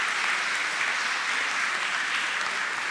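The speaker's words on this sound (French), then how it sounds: "Applaudis yo. Bat bravo pour yo." A congregation claps during a Sunday morning Mass, a steady, fairly soft wash of applause from a crowd that continues evenly without other sounds on top.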